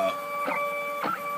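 A RepStrap 3D printer prints Rodin's Thinker in plastic, its stepper motors whining in steady tones with two short rising whirrs as the head moves, heard up close and alone.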